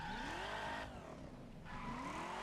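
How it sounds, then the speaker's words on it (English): A supercharged car in the racing game The Crew drives past with a loud, steady engine note. Its pitch rises and falls through gear changes, it briefly quiets mid-pass, and a hint of tire squeal comes through. "This one's got a bit more supercharger sound,"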